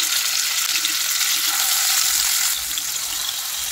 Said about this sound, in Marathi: इथे गॅसवरती मी एक पॅन ठेवलेला आहे, पॅन मध्ये 2 चमचे तेल घालून घेतलेले आहे। बांगड्याचे पीस घालून घेते।